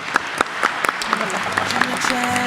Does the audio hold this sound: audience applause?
yes